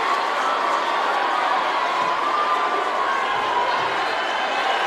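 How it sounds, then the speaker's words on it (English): Tiger fans cheering in the stands at a Chapmanville vs Logan high school basketball game, a dense, steady crowd roar that holds at a high level throughout with no break. "Tiger fans cheering as we see a Logan fan ejected from the crowd"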